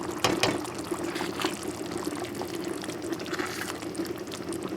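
Ghanaian taro leaf stew being stirred in a pot, giving soft, wet bubbling and sloshing at low volume, steady throughout with a few light scrapes.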